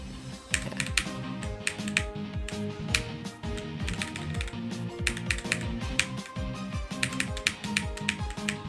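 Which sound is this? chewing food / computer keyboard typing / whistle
computer keyboard typing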